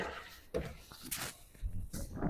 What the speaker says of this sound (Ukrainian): Так, перепрошую за вітер.